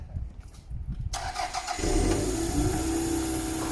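A car engine cranks and catches after a freshly finished wiring job, starting at about one second in and settling into a steady, loud running idle with some revving; no voices are heard.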